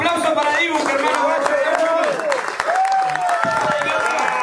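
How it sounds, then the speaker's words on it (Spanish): Audience at a rap battle league clapping and cheering in a steady wash of applause, with a voice shouting over it. "Aplauso para Dibu,"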